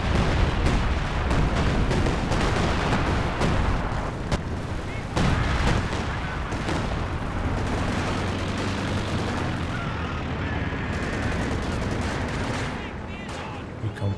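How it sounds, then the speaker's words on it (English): A 152 mm artillery barrage in Company of Heroes 2, a continuous loud rumble of booms and blasts with scattered gunfire for over ten seconds, fading slightly at the end, a commentator talking over it. "152 mil artillery's coming down"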